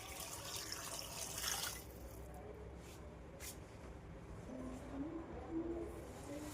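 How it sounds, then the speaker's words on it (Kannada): Water is added to a cooking vessel for drumstick sambar, a faint splashing pour that fades after a couple of seconds, followed by quiet clinks and light kitchen noise. "ಇದರಲ್ಲಿ ಎಷ್ಟು ಬೇಕೋ ಅಷ್ಟು ನೀರು ಬೇಯೋಕ್ಕೆ."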